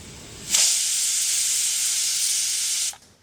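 A pressure cooker on the stove cooking horse gram lets off a loud, steady hiss of escaping steam that bursts in sharply, holds for a couple of seconds and cuts off abruptly.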